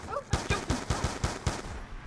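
Gunfire in Black Ops 2 Zombies, a rapid burst of about eight evenly spaced shots over two seconds, fairly faint, with a brief game sound just before the first shot.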